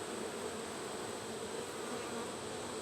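Honey bees buzz steadily at an open hive, a dense continuous drone close by with no pauses or voices.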